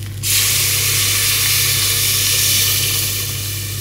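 Milk poured into a hot pan of toasting flour, onion and mushroom for a bechamel, a steady loud hiss and sizzle that begins suddenly and holds evenly for several seconds with no talking.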